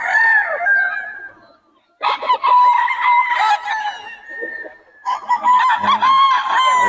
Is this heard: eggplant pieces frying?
no